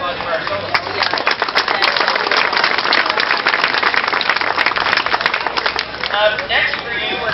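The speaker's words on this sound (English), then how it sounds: "Big round of applause for our soloists." Dense, steady audience applause rolls through a live band contest show for the baritone and trumpet soloists, many hands clapping at once with a few sharper claps and cheers standing out, sustained at even loudness throughout.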